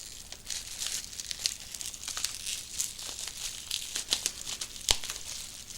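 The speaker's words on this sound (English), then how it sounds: "I'm going to have to rip this thing open." Crinkling plastic packaging rustles and tears close up as a bag holding an NEC Valuestar PC remote control is ripped open, with irregular crisp crackles and a sharper rip near the end.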